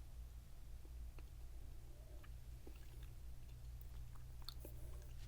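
A chewy dried raisin snack is chewed close to the mic, with soft moist clicks and faint bites spread sparsely over a low steady hum.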